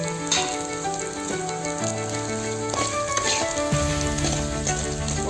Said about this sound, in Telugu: ఒక 2 నిమిషాలు సిమ్లోనే ఈ పౌడర్ ఉడకనివ్వాలి.